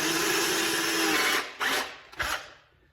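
A power drill whines steadily at high speed, then stops and gives two short bursts as it bites into a plastic rivet on a BMW E90 cargo net.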